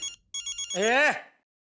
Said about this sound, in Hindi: ये व्यापारी मंडल वाले मेहरा जी कभी ऐसे ही फोन करते नहीं है।